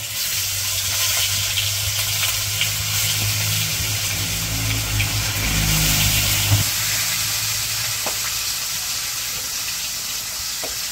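Fish pieces coated in turmeric, chili powder and salt fry in oil in a wok in a village kitchen, producing a continuous, dense sizzle and hiss with a low hum underneath and an occasional faint click, close and steady throughout.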